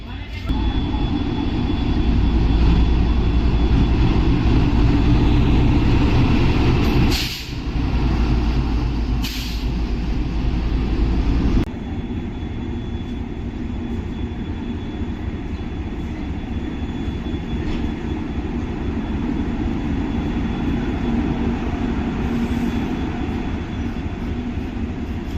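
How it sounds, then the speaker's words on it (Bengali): A train pulls into a station in Silchar, its steady loud rumble and air-brake hiss running throughout, with a brief drop partway through before the engine noise settles to a lower sustained drone; people talk excitedly over it. "দেখো ট্রেন ঢুকছে, দেখতে পাচ্ছ?"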